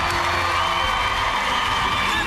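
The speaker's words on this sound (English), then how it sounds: "Round of applause, everyone." Studio audience on a diving game show giving a round of applause with cheering and whoops, a dense continuous roar of crowd noise filling the whole stretch.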